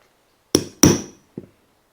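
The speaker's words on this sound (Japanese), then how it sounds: "セインブローグなので穴飾りを開けていきます。" Leather being punched with a metal hole-punch tool for brogue decoration on a semi-brogue shoe upper: three sharp, close hammer strikes, two loud and ringing in quick succession, then a softer one, in a quiet room.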